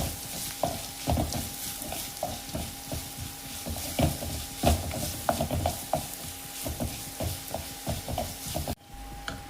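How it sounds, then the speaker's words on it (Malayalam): Chopped green chillies and onion fry in a pan, giving a steady sizzle broken by regular scraping clicks of a spatula stirring the mix, close and fairly loud, ending with a short quieter stretch. "ഇതിലേക്ക് പച്ചമുളകും സവാള അരിഞ്ഞതും ചേർക്കണം ഇതൊന്ന് നന്നായിട്ട് മൂത്ത് വരണം"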